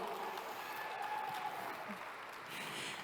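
Faint, distant applause at a live forum for a salon specialist, a soft steady patter of clapping with a faint voice underneath.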